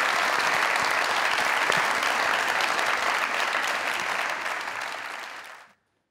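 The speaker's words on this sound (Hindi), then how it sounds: "तालियां बजाइए ना।" Loud, sustained studio audience applause on a Pakistani comedy talk show, a thick continuous roar of clapping that holds steady and then cuts off abruptly near the end.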